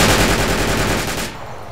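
Full-automatic gunfire in the combat game Project Reality, several weapons firing together in a dense, loud, continuous burst for over a second before cutting off abruptly.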